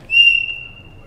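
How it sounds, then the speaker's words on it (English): A single shrill emergency whistle blast, loud and steady with a sharp onset, fading into a lingering tone, heard at a Boy Scout troop court of honor. "you never need an emergency whistle until you need an emergency whistle"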